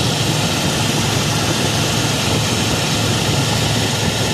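An Oldsmobile Delta 88 engine runs after a carburetor overhaul, a loud, steady, dense roar with a low rumble, heard close and continuous throughout.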